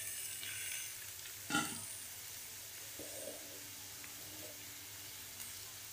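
Potatoes tipped into hot oil in a frying pan for a spicy Marathi batata bhaji, with one sharp burst of sizzle on contact settling into a steady, close hiss of frying, no voices.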